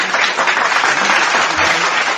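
A dense burst of applause plays as a sound effect, loud and steady throughout, with no voices over it.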